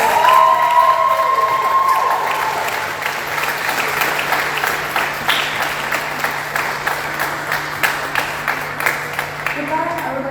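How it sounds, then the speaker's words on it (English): A crowd at an annual association awards event applauds and cheers for a spring induction class, the sustained clapping settling into a more rhythmic pattern toward the end. "Can we get another round of applause for our Spring 2024 induction class?"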